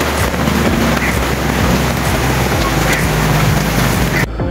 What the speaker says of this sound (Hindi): बारिश देखें आप किस तरह से पानी बह रहा है।